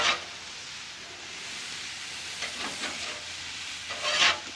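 Onions sizzle and caramelize in a pan with a steady hiss, joined by a few scraping stir strokes midway and a louder burst of sizzle near the end.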